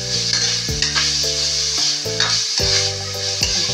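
Pork fat being toasted and fried in a pan, with a loud continuous sizzle and crackle, close up, and a few abrupt shifts as the pieces are stirred, no voices.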